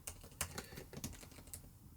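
Typing on a cleaned MacBook Pro keyboard: a quick run of light, irregular key clicks, close and fairly quiet, with no one talking.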